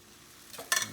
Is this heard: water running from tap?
no